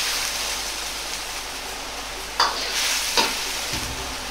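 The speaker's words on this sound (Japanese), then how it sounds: "豆腐を入れたら火をやや弱めにしてコトコトと煮込むようにしていきます。" Tofu and shrimp cook over lowered heat in a broth of about 350 cc, giving a soft, steady bubbling sizzle with a couple of brief clinks of a utensil against the pot near the end.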